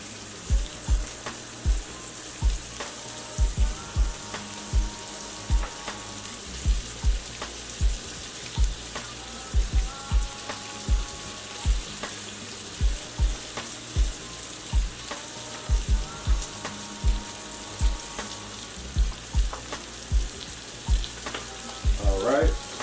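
Sausage and onions browning in a pan for homemade spaghetti meat sauce, giving a steady loud sizzle broken by frequent sharp clacks and scrapes of utensils against the pan, with no talking.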